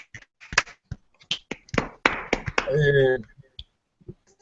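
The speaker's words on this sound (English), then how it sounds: "Go ahead. Clap for the audience." A few scattered, sharp hand claps from a person on a live show, coming as separate close taps mixed in between bursts of talking.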